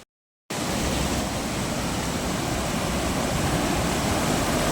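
Rushing flash-flood water pours down from the hills as a loud, constant roar that fills the scene without pause after a brief silent start.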